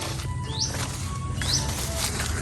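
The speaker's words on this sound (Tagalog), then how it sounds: "Nakaka-relax yung sounds ng mga ibon." Birds call in short rising chirps over a steady breezy hiss in a windy grassy field shaded by trees, two brief faint calls standing out against constant outdoor noise.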